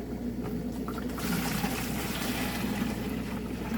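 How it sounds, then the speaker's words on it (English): Liquid poured from a container onto a garden plot for garlic sowing, a steady trickling and splashing that swells after the first second, close and moderately loud. "We'll just go over here and pour it in."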